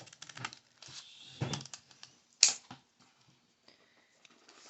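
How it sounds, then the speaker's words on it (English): Scissors snipping through folded paper while making a paper snowflake, a few close, crisp cuts with one sharp louder snip, separated by quiet pauses. "Now flip it over, and you want to cut off this top part."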